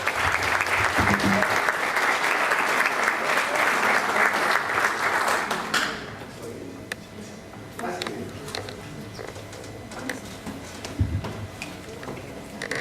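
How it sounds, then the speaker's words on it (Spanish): Audience applause welcoming a speaker at a public-policy lecture, dense steady clapping for about six seconds that stops abruptly, followed by quiet room noise, a few scattered claps and knocks, and faint talk. "damos la bienvenida con un aplauso"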